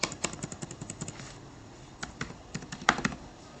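Keys clatter on a computer keyboard while C++ code is typed out, in quick bursts of clicks with a short pause in the middle, close but fairly soft.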